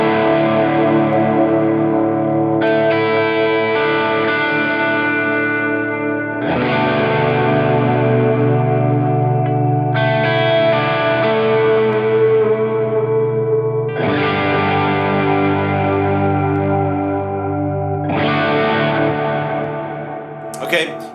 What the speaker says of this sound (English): you can kind of arpeggiate the chords if you'd like. It would kind of sound a little bit like this.